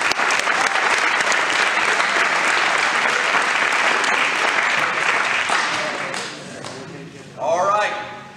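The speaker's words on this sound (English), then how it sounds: "Give this young man a round of applause." A crowd applauds steadily for a young football player at a team event, the dense clapping tapering near the end and giving way to a voice.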